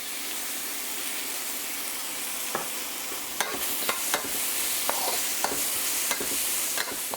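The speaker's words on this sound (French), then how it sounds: "Pendant qu'on fait revenir les poivrons et les oignons, on peut rajouter quelques pincées de notre assaisonnement de sel et poivre." Garlic, chili, bell peppers and onion sauté in a hot wok for salt and pepper tofu, giving a steady close sizzle with sharp clicks and scrapes of stirring at irregular intervals and no voices.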